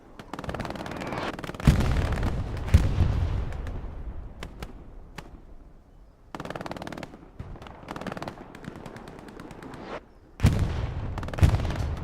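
Heavy booming blasts of artillery fire in Hell Let Loose, several loud impacts in irregular bursts with long rumbling decays and brief quieter gaps between volleys.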